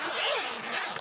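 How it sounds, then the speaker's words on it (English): A bag zipper is pulled closed in one quick, continuous rasping stroke, close and clear with no other sound. "Let's close the zip and mix them up nicely."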